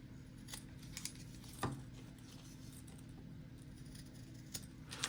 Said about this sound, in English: I'm going to go ahead and trim down my tab.